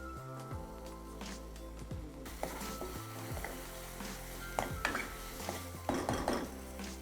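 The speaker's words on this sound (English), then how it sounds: "After adding the spices, we'll saute the masala for 2 to 3 minutes" Spiced masala sautéing in a kadhai for a Bengali papad curry, with clinks and scrapes of a spoon against the pan over a steady low sizzle, rising to several sharper clatters toward the end.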